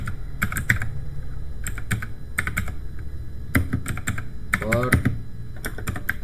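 Keys clatter on a computer keyboard in short bursts of rapid clicks separated by brief pauses, close and clear, with a voice murmuring faintly under part of it.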